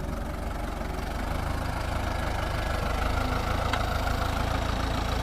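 A New Holland TD90 tractor engine runs steadily at low revs under a pushing power test, a continuous mid-to-low rumble with slight knocking texture, close and fairly loud, with no talk.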